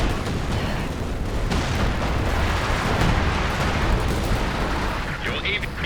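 Artillery barrages in Company of Heroes 2, zeroing off-map shells and a walking Stuka barrage, rumble as dense, continuous overlapping booms and blasts at steady loudness, with game noise and faint voices mixed in.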